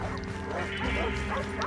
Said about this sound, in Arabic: ايش هرجة الكلاب